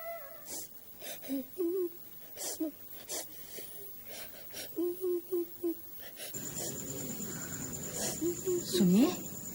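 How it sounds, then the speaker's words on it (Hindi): Muffled crying comes from downstairs in a home: a run of short, pitched whimpers and sobs in uneven bursts, then a louder rising wail at the end over low background noise. "नीचे से किसी के रोने की आवाज आ रही है।"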